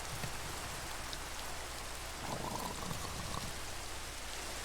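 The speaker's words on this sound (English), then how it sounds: "The rain's supposed to be turning to snow at some point today." Steady rain falls and patters on surfaces outdoors, a dense even hiss with scattered drops, moderately close and uninterrupted, with no one speaking.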